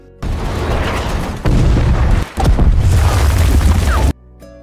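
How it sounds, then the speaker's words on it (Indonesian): Bomb blasts and gunfire along a western front battle line, a loud sustained roar of booming explosions with dense rumbling bursts, briefly dropping out before resuming and then cutting off abruptly. "mereka langsung disambut dengan suara ledakan bom dan suara senjata api dari masing-masing kedua belah pihak"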